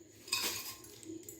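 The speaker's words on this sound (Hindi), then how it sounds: "सबसे पहले हम इसमें ये बर्फ़ और पुदीना डालेंगे" A quick clatter of ice cubes and mint tumbling into a blender jar, a bright clinking burst followed by a few softer taps.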